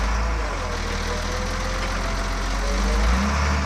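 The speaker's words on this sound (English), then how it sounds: "Hydraulics very good. Blade sliding. Tilt." A 2004 Volvo G710B motor grader runs steadily, with a continuous low engine drone and hydraulic hum while the blade slides and tilts. The sound stays close, even and fairly loud throughout, with a slight swell near the end.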